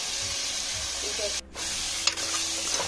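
Mutton and chana dal curry mixture being stirred in a pan: a steady hiss of cooking with a brief drop and a couple of small scraping clicks, close and moderately loud, with a voice faintly present.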